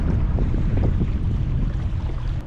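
Wind rushes steadily over a sailboat on a downwind run in about 11 to 12 mph breeze, a loud continuous buffeting roar with water and hull noise mixed in close to the microphone.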